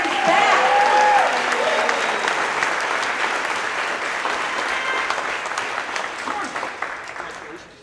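Crowd applauding and cheering at a monthly celebration, a dense, loud wash of clapping that fills the scene from the start and slowly thins toward the end, with a voice briefly audible early on.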